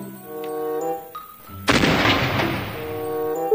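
A toy gun fires a military-style gunshot effect: one sharp, loud blast with a long decaying rumble, following a brief electronic tone. No one speaks over it.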